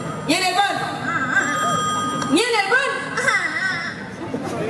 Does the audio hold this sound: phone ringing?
yes